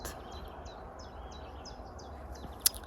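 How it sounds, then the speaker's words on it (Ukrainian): Birds sing in a garden in a quick repeated series of chirps, fairly faint over a low background hum, ending with a sharp click. "чуєте, як пташки співають кожен так вечір, ранок взагалі"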